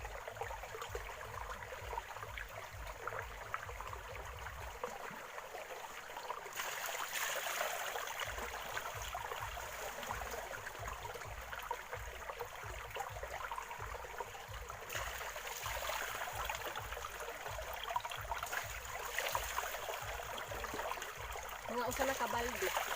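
Countryside stream of flowing water, a steady close rushing and trickling wash that runs the whole time, with louder gurgling patches and faint low rumbling.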